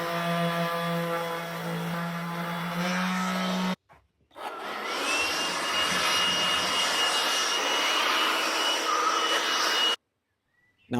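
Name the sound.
sanding with 120 grit sandpaper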